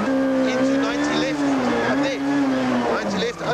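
A 1995 Volkswagen rally car races through a car park stage, its engine loud and close as it revs up and down between corners, with hints of tyre squeal.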